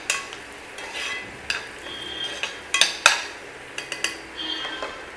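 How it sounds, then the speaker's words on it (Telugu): Onions and green chillies frying in a pan on an electric stove, with soft sizzling under scattered clinks and scrapes of a spoon stirring against the pan. "ఆనియన్స్ అండ్ పచ్చిమిర్చి వేగుతున్నాయండి"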